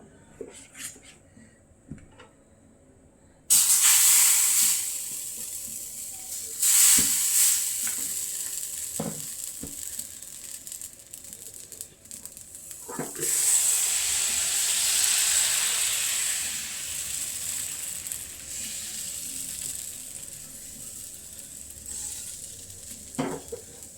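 Appam batter sizzles on a hot pan, a steady frying hiss that starts abruptly, swells loudly for a while, eases back and picks up again, with faint clinks of utensils between.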